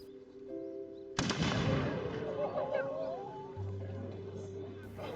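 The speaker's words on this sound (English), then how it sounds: "we are going to open the gunnery demonstration with a shot from the Tanzutsu carried by the captain" A single sharp report from a Tanzutsu matchlock gun opens a gunnery demonstration, loud and close, with a long ringing decay and background noise and voices after it.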